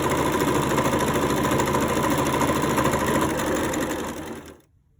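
A sewing machine runs steadily, stitching elastic onto a fabric face mask, a loud continuous mechanical whir that holds for about four seconds before cutting off abruptly into near silence.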